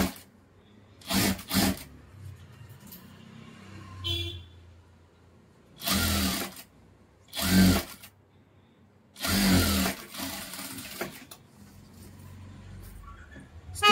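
Sewing machine stitching a cotton blouse, several short whirring bursts of a few seconds each separated by pauses, close and moderately loud.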